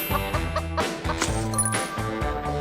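Chickens cluck in quick rhythmic bursts, short and close together, with a faint tinkling in the background.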